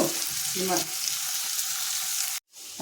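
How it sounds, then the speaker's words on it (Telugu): Salt hitting a hot pan of frying food gives a steady, close sizzle with a brief stirring scrape near the start. It stops abruptly near the end, then resumes faintly. "సాల్ట్ వేసి వేగనియాలి."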